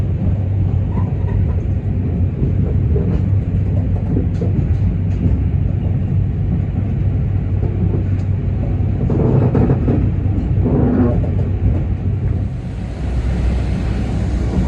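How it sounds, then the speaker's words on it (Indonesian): KA Menoreh, an Indonesian economy passenger train, pulls out of Cikarang station at night, a steady loud rumble of wheels and carriage noise running throughout with no voices. "kereta api Menoreh diberangkatkan kembali dari stasiun Cikarang"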